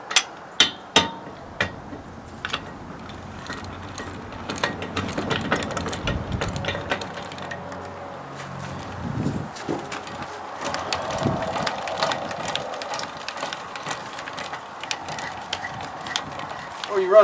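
A geared lug wrench works loose the lug nuts on a truck's blown-out steer tire, giving a series of close metallic clicks, clanks and ratcheting taps scattered over low background noise, with some quiet speech.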